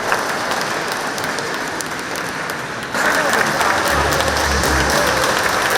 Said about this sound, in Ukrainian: З аплодисментами зустрічали й колишнього очільника обласної лікарні Івана Сидора.